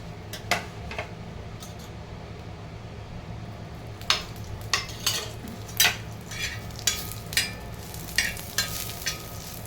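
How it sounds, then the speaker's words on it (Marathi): Coconut being dry-roasted in a pan, stirred repeatedly with a spatula, giving a regular series of close scraping and clinking strokes over a low steady background hiss. "त्यात आता आपण थोडंसं खोबरं भाजून घेऊ."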